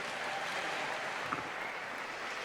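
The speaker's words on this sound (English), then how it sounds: "terrific reception from the Scottish crowd" Scottish crowd applauding British 200 metres breaststroke champion Andrew Willis at the British Swimming Championships, a steady dense wash of clapping and cheering that fills the indoor pool hall throughout.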